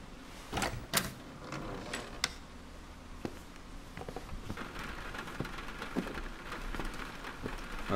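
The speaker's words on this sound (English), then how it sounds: "Well, it's raining." Steady rain falls in the WhiteNight video game, a continuous patter of drops with a few sharper knocks near the start, moderately quiet and with no voices.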